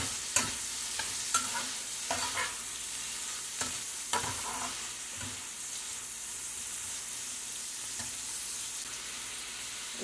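Garlic fries in a pan with a soft, even sizzle, broken by several sharp clicks and scrapes as a utensil stirs it, fairly quiet and without voices.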